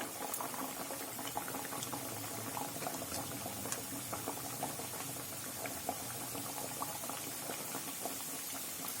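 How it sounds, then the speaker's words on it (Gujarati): Farsi puri, crisp Gujarati Diwali snack discs, frying in hot oil, giving a steady, dense bubbling sizzle that runs continuously throughout with fine crackling pops and no voices. "આ રીતે જ આપણે તેને તળાવવા દઈશું અને ઉપર આવે પછી જ તેને ફેરવશું."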